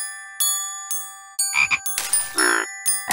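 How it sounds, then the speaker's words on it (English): Frogs croak in a chorus in a Curious George video game, with several short, distinct croaks overlapping against bright, ringing bell-like tones. The croaks come in quick bursts near the end. "George has found some very musical frogs."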